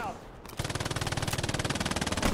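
Rapid automatic gunfire in a video game tank battle, firing at a hedge line, rattles in a steady, loud, close stream after a brief rushing sound at the start.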